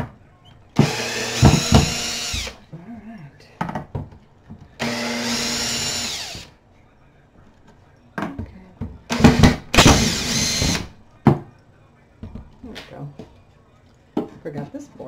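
Power drill driving out screws from boards on a DIY farmhouse-style fence, several loud bursts of whirring a few seconds each, with short pauses and clatter between them.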